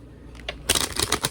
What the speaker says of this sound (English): I'm going to get one more shuffle in.